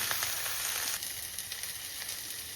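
Onions fry in a pan as they brown, with a steady, hissing sizzle that stays close and even, slightly softer after the first second, with no talk.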